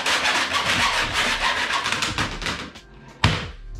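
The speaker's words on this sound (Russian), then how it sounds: "аккуратненько отпиливаем нужный размер" A hand saw cuts through a baseboard during a home renovation, giving a steady run of close, rasping back-and-forth strokes that slow near the end and finish with a sharp knock.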